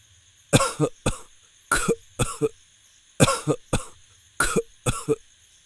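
Heavy, harsh coughing in repeated bursts, mostly in pairs, close by with brief silences between fits.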